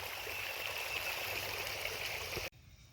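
Water rushes steadily down a wide, eroding stream channel where trees have fallen, a loud, close, continuous broadband flow that cuts off abruptly near the end.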